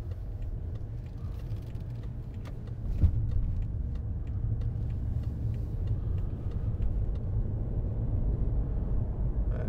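A 2015 BMW 535d diesel saloon pulls away, its engine a low steady rumble heard from inside the cabin, rising slightly as it accelerates with no talking.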